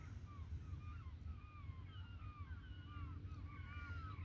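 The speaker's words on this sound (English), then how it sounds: "Those are seagulls, of course." Gulls calling near a dock at dawn, their thin, repeated cries carrying over steady low water and boat rumble, with occasional farther calls layered in the background.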